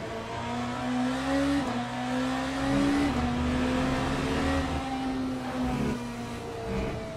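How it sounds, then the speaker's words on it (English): A race car engine in the Le Mans Ultimate sim game drones loud and steady, rising and falling slightly in pitch as it revs on track with no talk. "I'm really surprised that the car is so much louder than the GT3s."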